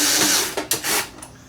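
A JoustMax cordless screwdriver, a small tool for electronics work, runs in short whirring bursts with brief pauses, close and fairly loud with no talking.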